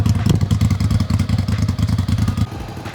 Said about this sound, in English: Quick sound check for those of you guys that like exhaust sounds.